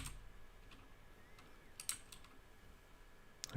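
Faint clicking of keys on a computer keyboard during an attempt to set up a Raspberry Pi, soft irregular taps under a steady background hiss, with a couple of sharper clicks.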